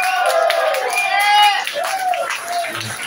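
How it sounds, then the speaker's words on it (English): Pub audience at The Cavern Pub claps and cheers to welcome a performer, a lively burst of applause with shouting voices and whoops over it. "I want you to give him a massive round of applause"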